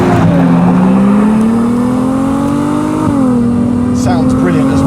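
Ferrari 296 GTB engine pulling hard under acceleration, a loud, rising tone that climbs steadily, dips at a shift and climbs again, sustained close up throughout.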